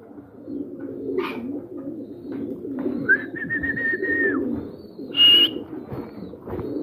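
Pigeons coo nearby inside a loft, a low continuous murmuring broken by a sustained whistle-like tone and a couple of brief sharper chirps, with no voices.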